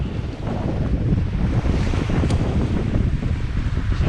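Wind gusts and breaking waves rush steadily past a heeled-over sailboat running in semi-following seas, a loud continuous roar of air and surf with no voices.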